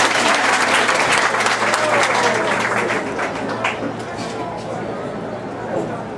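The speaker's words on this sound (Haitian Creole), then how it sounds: "On applaudit, serviteur Lili" An audience claps dense, sustained applause at an inauguration of rehabilitation work on a Vodou sacred courtyard in Haiti. The applause starts loud and gradually eases, with crowd voices murmuring underneath.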